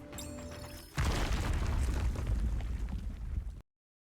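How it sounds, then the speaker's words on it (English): The Rapture collapsing in the game NIKKE Goddess of Victory: a sudden loud boom opens a sustained rumbling crash with heavy low-end debris noise that lasts a few seconds and then cuts off abruptly. "With a thunderous crash, the Rapture collapses."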